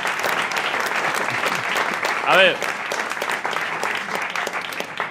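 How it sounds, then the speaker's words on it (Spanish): Studio audience applause on a comedy talk show, steady and fairly loud throughout, with a brief voice breaking through midway. "Un fuerte aplauso a mis tutores legales."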